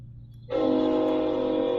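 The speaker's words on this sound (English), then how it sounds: "he's still going on the train horn" After a brief low rumble, a train horn blasts in and holds a steady, loud, sustained chord until the end.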